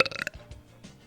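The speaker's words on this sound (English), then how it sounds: "You just messed up my burp." A single loud, close human burp, raspy and bursting at the start and then trailing off into a low rumble within about a second, with no talk over it.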